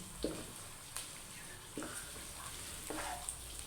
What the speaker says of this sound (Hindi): एक प्याज ऐड कर दें काट के, इसमें चम्मच हिलाते रहें।